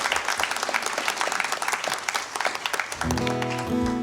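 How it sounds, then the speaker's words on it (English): Audience applause at a live music show, broad crowd clapping filling the first three seconds before sustained amplified guitar tones take over near the end. "So how about a big round of applause for the McCaw crew."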